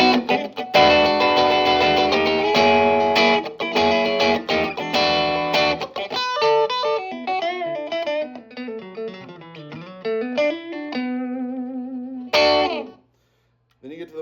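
An electric guitar from Crook Custom played clean through an amp on its out-of-phase pickup position, giving a thin, hollow tone; loud chords lead into single-note runs, then a final struck chord rings out and stops.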